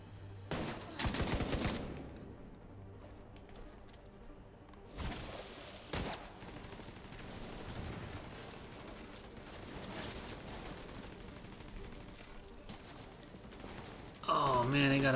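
Gunfire during a firefight in The Division 2: sharp, loud bursts of rifle fire at the start, then scattered isolated shots and a final loud burst, with quieter game ambience between them.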